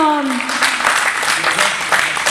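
An audience at an evening charity event breaks into steady applause for the host, with a voice speaking over the clapping.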